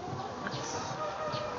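Chickens cluck and a rooster crows indoors, in a building where game fowl are gathered, with faint background noise.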